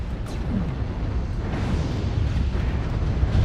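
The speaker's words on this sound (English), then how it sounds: "I just walked right into artillery again" In the video game MechWarrior Online, an artillery strike lands close by as a heavy, rumbling blast that rolls on for several seconds with no voice over it.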